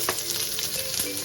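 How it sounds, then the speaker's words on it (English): Onions frying in peanut oil in a wok, a steady close sizzle with a faint stir, brief and without voices. "Some more peanut oil into the wok. Let's add some onions to get some flavor in."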